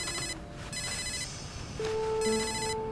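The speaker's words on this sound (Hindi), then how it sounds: "जिम का फोन है।" Telephone ringing indoors in bursts of repeated electronic trills with pauses between them, clear and moderately loud over a steady room hum; a sustained tone joins near the end.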